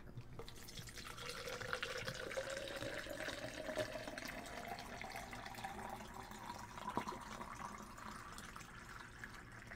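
Water pours steadily into a bottle, the pitch rising gradually as it fills; quiet and close, with no talking.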